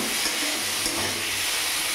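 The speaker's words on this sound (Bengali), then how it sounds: "আমি চিংড়ি মাছটা বেশিক্ষণ ভাজবো না, 2 থেকে 3 মিনিট আমি নাড়াচাড়া এপিট করে নাড়াচাড়া করে নেব" Prawns frying and being stirred in hot oil in a pan, a steady close sizzle with occasional scraping stirs, no voices.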